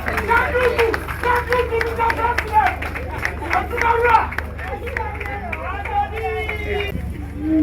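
Crowd clapping and murmuring at an outdoor sod-cutting ceremony in Ghana honoring the President, with a loud voice speaking over steady applause and chatter throughout.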